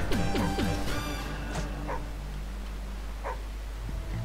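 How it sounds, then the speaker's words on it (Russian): A dog in the video game Madagascar 2 lets out a few quick, sharp yips and barks at the start, followed by fainter scattered whimpers over a steady game background hum. "псина вернулась."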